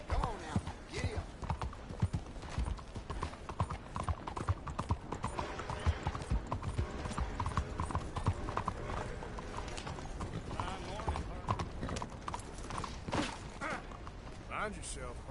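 Horse hooves clatter in a fast, rhythmic gallop in Red Dead Redemption 2, with a dense, continuous clip-clop that stays close and busy for the whole stretch.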